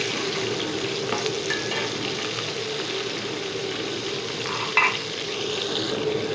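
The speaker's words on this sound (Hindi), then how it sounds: "ऑयल देखिए गरम हो चुका है हमारा। इसी को मिक्स करें ताकि हमारे जो प्याज हैं वो ब्राउन होने तक पकाने हैं हमें।" Chopped onions frying in hot oil in a pan while being stirred, a steady soft sizzle running throughout with faint scraping of the stirring and one brief clink near the end, no voices.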